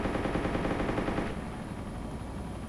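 Rapid sustained gunfire from a British helicopter-mounted gun in ArmA 2 Operation Arrowhead, loud and continuous, with a dense rattling burst that drops to a slightly quieter steady stream partway through.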